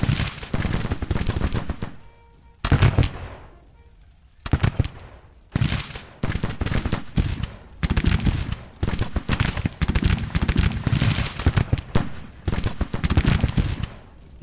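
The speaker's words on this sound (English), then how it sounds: "we're about to have 2 brigades firing on Dees" Two Civil War-era infantry brigades fire musket volleys in Grand Tactician: Civil War, a ragged, crackling run of many overlapping shots in repeated bursts with short gaps, loud and continuous over several seconds.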